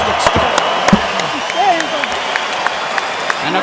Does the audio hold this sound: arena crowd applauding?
yes